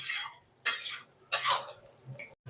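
Cabbage cooked with a fish head is stirred in a pan, giving three bursts of scraping and sizzling separated by short pauses, with a faint clink near the end.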